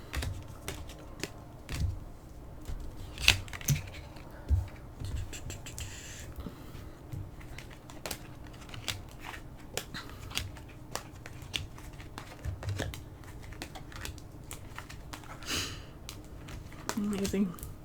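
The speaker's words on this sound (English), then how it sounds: "I do like to mix them once or twice on camera just for good measure." Tarot and oracle cards are mixed by hand indoors, giving soft, irregular riffling, tapping and crinkly handling noises at close range, quiet and scattered across the span.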